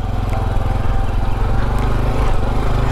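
A Honda CT125 motorcycle rides over loose, soft dirt, its single-cylinder engine droning steadily and loudly up close with a throbbing, continuous note.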